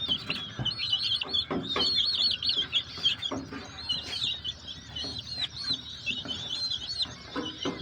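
Young Brahma chicks with feathered feet peep and chirp continuously in a dense, overlapping chorus, with scattered clucks and light scuffling nearby, steady and fairly close throughout.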